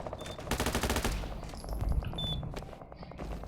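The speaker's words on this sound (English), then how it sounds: "Providing my teammates cover fire." Rapid bursts of automatic gunfire in a multiplayer video game, laying down cover fire, with a dense rattling volley up front followed by scattered shots, fairly close and alone.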